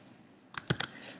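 A few quick sharp computer mouse clicks, close and crisp, in a quiet room while saving work in a software application.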